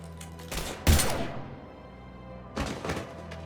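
Gunfire in the video game Mass Effect 3 erupts as a couple of heavy, booming bursts with a sharp thudding blast near the start and another volley toward the end, separated by a lull of low rumble.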